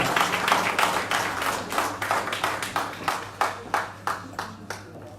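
A church congregation at a wedding claps in a steady, rhythmic beat, the sharp hand claps close and loud and slowly thinning toward the end.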